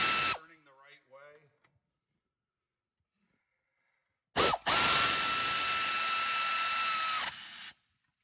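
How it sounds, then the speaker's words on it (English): An air ratchet tightening a brake bolt during disc brake reassembly, one loud, close, sustained whirring burst of about three seconds that follows a brief voice and a pause. "once it tightens up with the air ratchet, you want to give it a pull with your hand"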